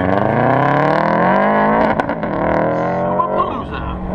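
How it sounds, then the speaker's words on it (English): A Subaru accelerating away at an autocross event, loud and close, the engine note climbing steadily through the revs before easing slightly as the car pulls off. "Another Subi out on course, and a Subi taking off."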